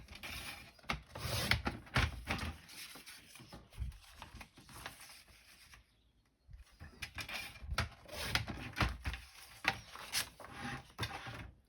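Paper being cut for a scrapbook page, a series of close crisp snips and scraping blade strokes across roughly a dozen seconds with a brief pause midway, no talking.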